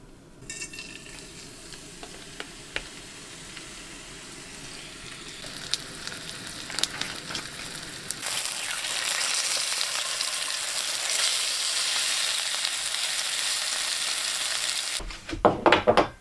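Moose steaks frying in olive oil at a remote Alaskan wilderness cabin, a steady close sizzle with occasional stirring scrapes, swelling louder in the second half before a few clattering knocks at the end.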